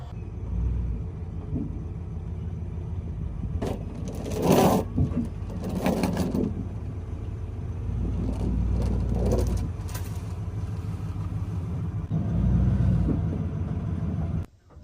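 Pickup truck idles and rumbles steadily while backing slowly toward a gooseneck-converted fifth wheel RV hitch, with a low engine drone and a few louder mechanical clunks and surges partway through.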